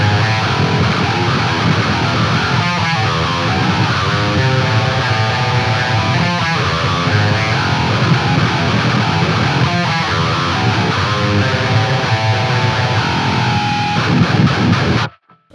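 An 8-string electric guitar roars through heavy distortion, playing dense, loud, continuous riffs with low chugging and bright harmonics before cutting off abruptly at the end.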